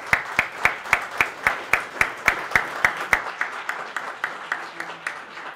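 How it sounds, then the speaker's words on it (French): Audience claps in unison for a performing team, sharp evenly spaced claps in a steady rhythm that gradually soften and thin out toward the end. "Encore une fois, une main d'applaudissement pour toute cette belle équipe."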